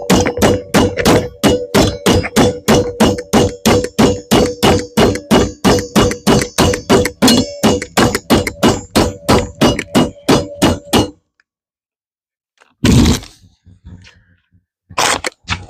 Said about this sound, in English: Then you just whack it down and you'll be done with the clamp part.